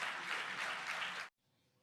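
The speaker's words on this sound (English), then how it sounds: "you can probably hear the cheering behind me" Faint, far-off applause and cheering from onlookers at a Falcon 9 first-stage landing, a steady wash of clapping that cuts off abruptly into near silence.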